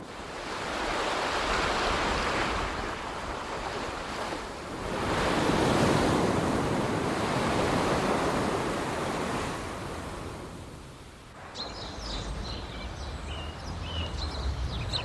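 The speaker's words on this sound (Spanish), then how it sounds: "El mar, que fascina con su inmensidad de agua a los habitantes del desierto." Sea waves wash onto the shore in a steady, loud roar that swells and recedes in broad surges, with wind buffeting the microphone throughout and no voices.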